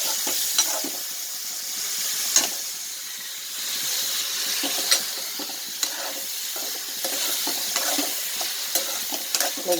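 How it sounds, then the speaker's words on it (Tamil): Dried cod fish stir-fried in a pan, a steady sizzle and hiss with scattered scraping stirs and small pops, close and moderately loud with no talking. "ஸோ வந்து கருவாடு வதக்குறேன்."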